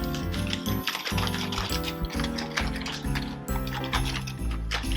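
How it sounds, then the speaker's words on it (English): Mini Oreo cookies tumble into a Ziploc plastic bag, making a dense, busy clatter and crinkle that rattles continuously and close up, with no talking. "So we're gonna put them in a Ziploc bag."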